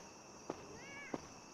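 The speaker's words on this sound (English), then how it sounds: "You see a cat sitting on the railing at the top of the stairs." A cat in a horror video game, perched on a stair railing, gives one short, faint, wavering meow between two soft taps over a steady electronic hum.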